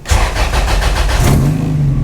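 A pink turbocharged Honda Integra cranks with a quick rhythmic starter whir, then catches and settles into a loud, steady idle, heard close up.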